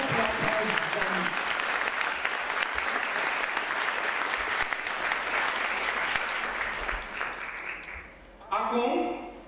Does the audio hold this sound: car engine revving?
no